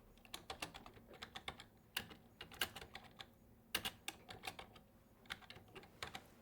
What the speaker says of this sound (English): I'm going to click where I want to start typing.